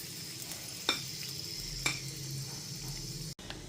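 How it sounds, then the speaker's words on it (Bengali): Whole spices — bay leaves, cloves, cinnamon, dried chilli and cardamom — sizzling in hot mustard oil for a chicken curry, a soft steady crackle with a couple of light clinks of a spoon against the pan. "তারপর ফোড়নে দিয়ে দিচ্ছি 2টো তেজপাতা, 2টো লবঙ্গ, 2টো দারচিনি, 1টা শুকনো লঙ্কা আর 2টো এলাচ।"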